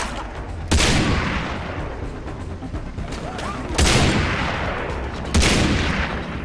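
Gunfire in the video game Far Cry 3: sustained rattling fusillades with three loud, close bursts over a constant background din.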